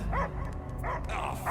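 A dog in the video game Guardians of the Galaxy barks and yips in short, bright bursts, two or three clustered calls with a whimpery edge, heard clearly over a low game background.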